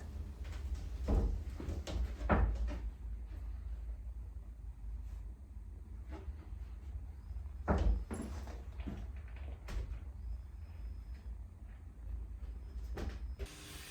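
On a sailboat, a hinged couch seat lid with storage underneath is lifted and lowered, giving soft wooden knocks and thumps with faint creaks over a quiet, low cabin hum.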